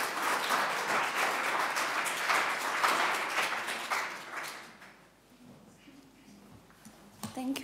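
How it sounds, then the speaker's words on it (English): An audience at a lecture applauds steadily for several seconds. The clapping then tapers off into a quieter room with faint movement. "Shall you please help me give Tracy a round of applause as she comes up?"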